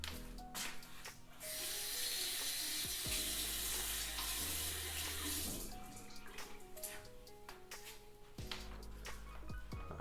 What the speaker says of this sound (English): just put some water on your hands, rub it through the top of your head